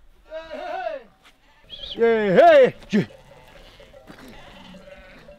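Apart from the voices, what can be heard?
sheep bleating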